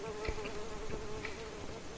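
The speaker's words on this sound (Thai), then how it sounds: "แล้วก็มีแมลงเพียบเลย เข้าปากไหมเนี่ย" A swarm of insects buzzes close by outdoors on a rainy day, a continuous droning hum with small shifts in pitch, heard alone with no talk.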